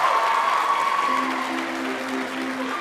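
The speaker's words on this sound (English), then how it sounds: "Give Miss Cray a round of applause." Applause from an audience at a high school faculty recital for a guest, steady dense clapping under a sustained tonal hum, fairly loud and even throughout.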